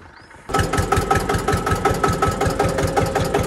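After a short quiet moment, a tractor engine kicks in and runs with a steady, loud, rhythmic chugging thump close by.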